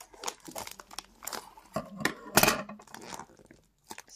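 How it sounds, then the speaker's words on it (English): A cardboard shipping package from a speedcube shop is cut and torn open up close, with scattered crinkling, ripping and crunching bursts, the loudest tear about halfway through. "cut open the package"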